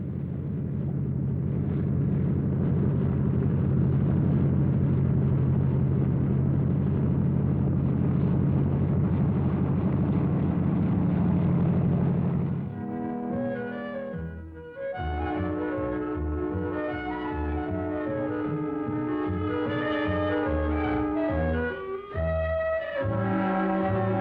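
A 1949 aircraft descending to land on the runway at London's airport, a loud sustained engine drone that gives way to pulsing, rhythmic propeller-engine throbbing, heard alone without voices.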